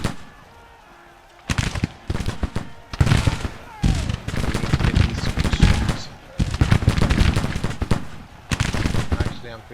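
Civil War reenactment gunfire, with a massed volley of black-powder muskets giving loud ragged bursts of overlapping shots and rolling echoes, repeated several times across the stretch.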